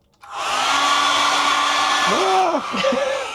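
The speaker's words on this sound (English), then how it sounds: "We've got a hairdryer" A hair dryer in a cruise ship balcony cabin switches on and blows with a steady, loud whirring hum, close up, its pitch briefly wobbling near the end.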